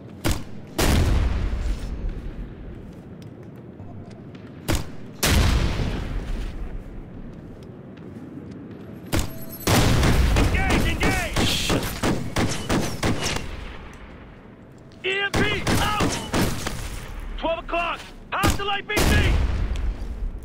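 Gunfire in the video game Ghost Recon Future Soldier: loud, close bursts of rapid shots and sharp booms, with heavy sustained firing in the middle and later stretches separated by quieter gaps.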